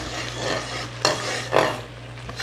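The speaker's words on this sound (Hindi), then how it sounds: "इसको 1 से 2 मिनट तक थोड़ा चम्मच हिलाते हैं ताकि अच्छे तरीके से ऑयल और ये चाशनी और ये पूरे जो इसमें मेवे डाले हैं मैंने, वो अच्छे तरीके से मिल जाए आपस में" A spoon stirs thick sugar syrup with oil and mixed nuts in a pan over heat, scraping and clinking in a few strokes over a continuous sizzle, close and moderately loud.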